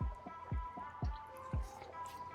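Appetizer pieces dropped one by one into hot frying oil, four soft plops about half a second apart, with a steady faint sizzle beneath and no talk.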